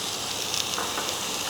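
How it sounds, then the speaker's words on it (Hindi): Onion and garlic sizzle in hot ghee for a tempering, a steady close frying hiss with no talk over it. "तो हम प्याज को थोड़ा सा तड़का मार रहे हैं यहाँ पे"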